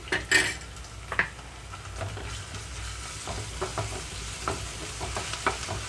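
Onions frying with ginger garlic paste over medium flame for a mutton curry, a soft, quiet sizzle broken by sharp spoon clinks and scrapes against the pan, with no talk.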